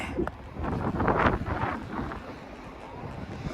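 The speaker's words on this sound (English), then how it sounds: "It's a little bit windy here." Wind buffets the microphone in a low, rumbling roar that swells and then eases off, with no voices present.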